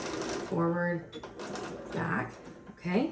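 Sewing machine backstitching a seam on a lined apron, its motor whirring in three short bursts that rise and fall in pitch as it stitches forward and back, with a voice speaking briefly between bursts.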